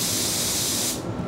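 A paint spray gun sprays clear coat at about 2 bar, a loud continuous close hiss of air and atomised paint that stops abruptly near the end as the trigger is released.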